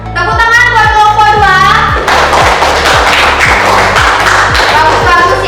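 An audience in a classroom claps for a presenting group, steady rhythmic hand claps at close range over melodic singing or music that gives way to a brighter burst of clapping midway.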